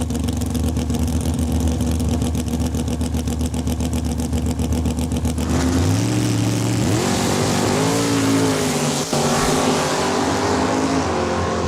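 Drag racing cars at Saskatchewan International Raceway, one a Mustang, idle loudly with a steady low rumble, then launch hard with rising engine revs that sweep upward and hold a loud, strained roar toward the finish.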